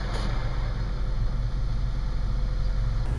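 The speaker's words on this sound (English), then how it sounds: "listen real close to the sound of this engine when I push the clutch in and release it" A 2008 Honda Fit engine idles with a steady, close low drone as the clutch is pushed in and released, suspected of a worn throwout bearing; no clear change in tone stands out and no one speaks.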